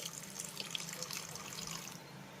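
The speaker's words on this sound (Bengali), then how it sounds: "এবার আমি এই মশলার ভিতরে অ্যাড করব হাফ কাপের মতো জল" Half a cup of water poured into frying spices in a pan, a faint, soft splashing hiss lasting about two seconds, with no talk.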